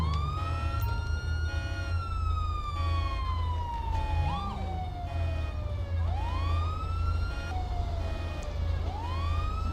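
A police car siren in the video game LSPDFR wails continuously, sweeping up and down in long cycles over a rumbling engine, loud and close.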